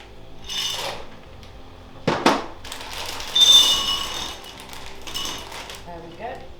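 Dry pasta tipped into a pan for a summer Italian pasta dish, sharp rattling and scraping clatters with a couple of louder bursts over a low background.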